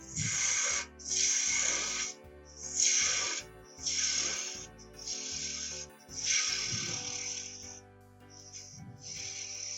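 A 3/8 spindle gouge cutting a small wooden holiday ornament spinning on a lathe, loud hissing bursts repeating roughly every second over a steady motor hum.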